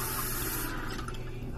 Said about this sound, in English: if we cut the amount of water we pour into the cup to around half, the water level is going to go down